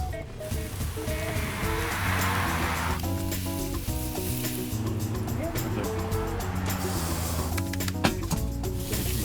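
Burgers sizzle on grill grates outdoors in a steady, crackling hiss. Fainter scraping and clatter join in, and people talk quietly underneath.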